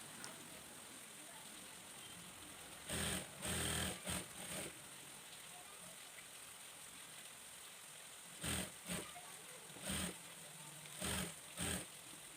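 A sewing machine stitching a kids' sharara dress sounds in short whirring runs of a second or so, separated by quiet pauses, close by and moderately loud.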